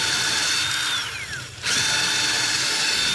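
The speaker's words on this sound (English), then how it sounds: "Now we can drill the bigger holes for the mounting screws." A power drill bores holes for mounting screws while a parking lot light is installed at a warehouse, a loud steady whine that dips and winds down briefly midway, then spins back up to full speed.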